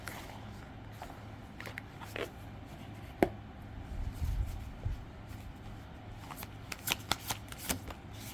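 Tarot cards shuffle softly with scattered riffles, taps and flicks, close but quiet over a low background hum, with a slightly louder snap near the middle.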